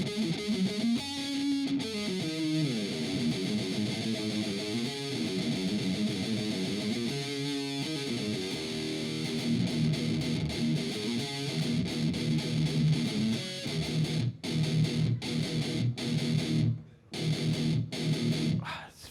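A heavy, distorted electric guitar tone played through AmpliTube, with chugging riffs and sustained notes, thick and loud, with sharp palm-muted stops near the end.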